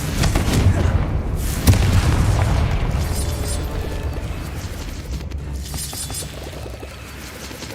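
A Confringo fire spell explodes in the Hogwarts Legacy video game, giving a loud, close booming blast with crackling debris. The rumble carries on and slowly fades over several seconds.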